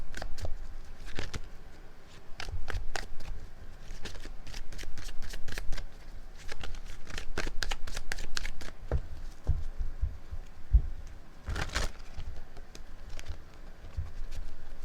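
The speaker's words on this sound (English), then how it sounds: "So let's cut the deck and see." Tarot cards shuffled by hand throughout, a steady run of crisp riffling and slapping taps with a few louder snaps, close and alone with no talking.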